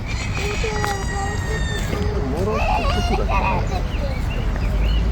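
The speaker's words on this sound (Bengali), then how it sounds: "হাঁস আছে।" Ducks quack and honk at a pond in Parco Querini, an Italian park, with several calls in irregular bursts amid outdoor background bustle, and people talking nearby.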